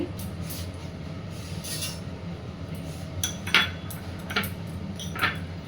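A utensil stirs and mixes soy sauce into food in a pan, giving soft scraping and occasional light metallic clinks over a steady background hum.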